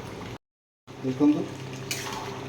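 Water is poured into a pan of desi country-chicken curry gravy, giving a short splashing gush after a brief silence, with faint background voice-like sound.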